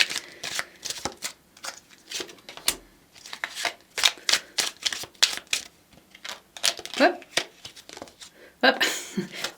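Tarot cards being shuffled in crisp, rapid riffling bursts, repeated many times over several seconds, close and fairly loud, with a louder flurry near the end.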